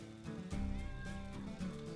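A small cat gives a drawn-out, wavering meow, close and fairly quiet, with a second shorter cry near the end and no speech.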